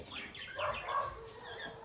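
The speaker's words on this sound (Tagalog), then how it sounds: "tawag sa amin dito ng ibon pagaw" A young pagaw bird, a fledgling with newly grown wing feathers, calls in short, close, moderately loud chirping and clucking bursts that rise and fall over a couple of seconds.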